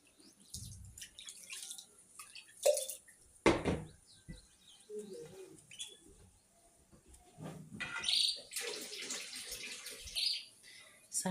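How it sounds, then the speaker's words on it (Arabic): Water poured into semolina for a yogurt and coconut seffa gives soft, intermittent trickles and splashes, with a few brighter drips and clinks toward the end, fairly close and quiet with no talking. "كنزيدو شويه الماء"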